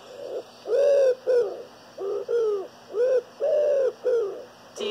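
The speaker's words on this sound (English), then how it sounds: "D is also for dove." Dove cooing in soft, rounded repeated phrases, about seven coos in a steady rhythm, close and clear with no talking.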